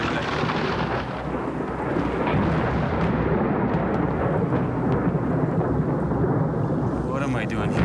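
Thunder rumbles through a storm over gator-infested water, a dense, steady roar with continuous rain-like wash and low rolling booms filling the whole stretch, no clear speech.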